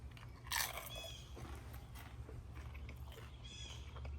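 Someone bites and chews crunchy griddle nacho chips up close, a sharp crunch followed by softer chewing crackles, quiet with no talking.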